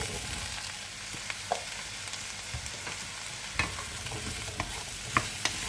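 Onion and courgettes fry in a heated pan with a steady, broad sizzle, broken by a few sharp clicks of stirring.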